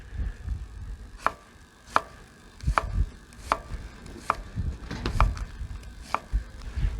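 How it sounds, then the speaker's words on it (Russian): A knife slices an onion into half rings on a board, giving a steady series of crisp, close chopping taps about once or twice a second, clear and alone. "Лук режем полукольцами."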